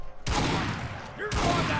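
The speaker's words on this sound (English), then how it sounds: "Yeah, that minigun will do it real quick." A minigun fires in Fallout 4 Far Harbor in two loud, dense bursts of rapid gunfire separated by a short gap, close and harsh, with a voice faintly under the shooting.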